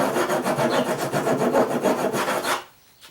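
Tool shaving wood off the bottom edge of a door in quick back-and-forth rasping strokes, close and loud, that stop abruptly near the end.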